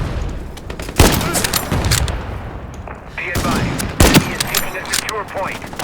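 Rapid gunfire from the online shooter game Ironsight, with repeated bursts and loud single cracks over a dense, busy mix, while someone talks excitedly over the shooting.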